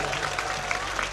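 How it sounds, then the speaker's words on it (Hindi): A large audience at a mushaira, an Urdu poetry gathering, claps in a steady dense roar of applause that fills the whole moment. "एक बार ताली बजाएं,"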